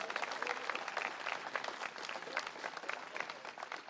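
A crowd claps steadily through a political speech in Domrémy on May 1, a dense, sustained wash of applause heard from within the audience.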